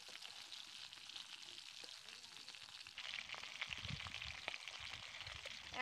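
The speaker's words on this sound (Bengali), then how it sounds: "এবার অন্য দিকটাও কিন্তু হালকা করে ভেজে নেব।" Pieces of hilsa fish fry in hot oil for shorshe ilish, giving a soft, continuous sizzle that grows louder and busier partway through, close by, with no speech.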